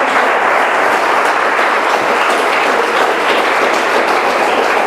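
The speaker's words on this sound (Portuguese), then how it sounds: "Aplauda o Senhor então para a honra e glória dele." A church congregation applauds the Lord, a dense, loud, continuous roar of clapping filling the room without pause, no voices rising above it.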